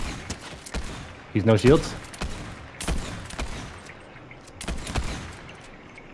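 Enemy gunfire in a Fortnite duos match, a rapid scatter of sharp cracks in short bursts spread through the scene, moderately close, with players talking over it.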